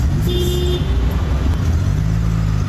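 Busy Bangalore road traffic heard from inside a vehicle, a steady low engine and road rumble with a car horn tooting briefly near the start and another tone later, no talking.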